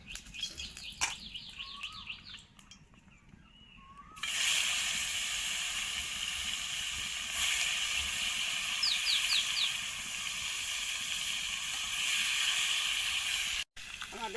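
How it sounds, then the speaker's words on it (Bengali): Lata fish fries in oil in a pan, a faint start that swells into a steady sizzling hiss. Light bird chirps sound in the background. "আমাদের মাছ ভাজা হয়ে গেছে,"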